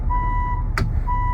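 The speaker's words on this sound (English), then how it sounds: "You'll also have a backup camera with the beeping." A 2024 Ford Transit 350 van's backup camera gives steady electronic reversing beeps, a sustained tone that breaks once for a short burst of noise and then resumes, over low engine rumble.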